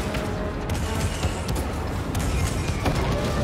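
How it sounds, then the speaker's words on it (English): Cannon fire and blaster-type booms and crashes from the Star Wars Jedi: Fallen Order video game, a dense, continuous barrage of loud mechanical impacts and bursts with no clear pauses. "So that fires the cannons."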